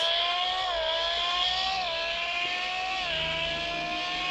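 A modified car in a driving game accelerates hard, its engine whine climbing steadily through the gears with brief dips at each shift, loud and close with no talking.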